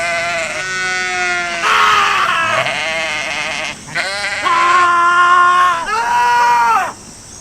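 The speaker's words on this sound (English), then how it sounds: "This is really an exercise on how many screaming goats will you guys tolerate." Goats scream loudly and close up in a run of long, strained, human-like bleats, several overlapping calls with brief pauses between them.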